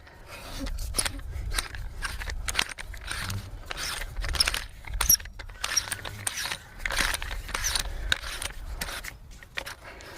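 A castle nut at the back of an AEA SF Sniper .22 air rifle is threaded on by hand, giving close, irregular metallic clicks, scrapes and ratcheting rattles in short bursts with pauses.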